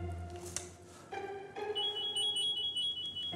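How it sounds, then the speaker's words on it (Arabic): A telephone rings indoors, thin electronic ringing tones rising through the last half of the clip over a low background hum. "ده التليفون بيرن"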